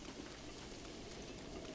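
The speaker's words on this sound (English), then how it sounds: "Oh, it's raining." Steady rain pours down in a video game, a continuous even hiss of falling drops filling the scene with no voices over it.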